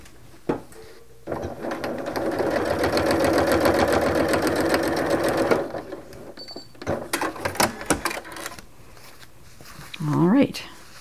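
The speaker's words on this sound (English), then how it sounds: "seam being stitched down." Sewing machine stitching a quarter-inch seam on a small scrappy quilt-as-you-go mug rug, a rapid mechanical rattle lasting several seconds before stopping, followed by a few clicks and brief talking.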